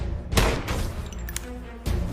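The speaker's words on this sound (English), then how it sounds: "That was definitely gunfire." Gunfire in a tense standoff, two heavy booming shots a second and a half apart, loud and close, with a brief metallic ring between them.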